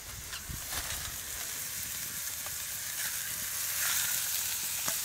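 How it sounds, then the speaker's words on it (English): A burger patty sizzles in a pan over a campfire, giving a steady close hiss and crackle with a few sharp pops and no talk. "So we have just put our first burger on."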